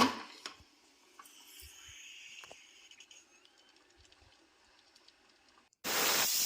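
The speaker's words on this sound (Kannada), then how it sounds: "ನೋಡಿ ಒಂದು ವಿಜಿಲ್ ಬಂತು" A pressure cooker of pea and fenugreek-leaf pulao sits quiet with a few faint clicks, then abruptly releases a loud, steady rush of hissing steam that runs to the end.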